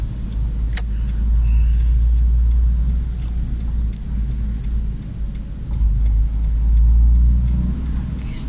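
A car driving on a snowy road, heard from inside as a steady low engine and road rumble that swells and eases, with small clicks and rattles and no speech.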